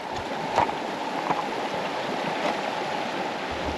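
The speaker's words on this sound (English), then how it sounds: "Whenever you have a rock outcrop like this, with the water going into a little pool" Creek water spilling over a rock outcrop into a small pool, a steady close rushing wash with a few brief splashy accents and no voices.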